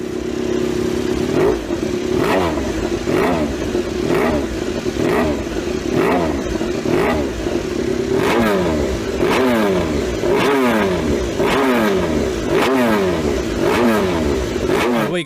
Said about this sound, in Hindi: ये बाइक 157 हॉर्स पावर प्रोड्यूस करती है अपने 999 सीसी इंजन से